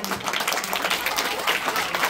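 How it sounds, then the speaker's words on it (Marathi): A crowd claps loudly at a school alumni association event honouring guests. The applause is dense and continuous, with no breaks from start to finish. "त्यांचंही जोरदार टाळ्या वाजवून स्वागत करूया."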